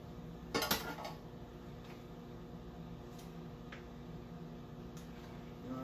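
Metal tongs clink against a pot on the stove while greens are added a little at a time, one sharp clatter early on followed by faint scattered taps over a steady low kitchen hum.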